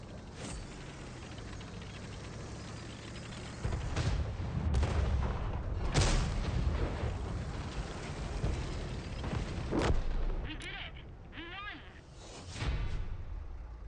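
HE shells fired in a tank battle video game, several loud booming shots with sharp cracks spread across the stretch, mixed with engine rumble and other battle noise while people talk over it.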